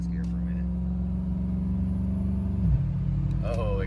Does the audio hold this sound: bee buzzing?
no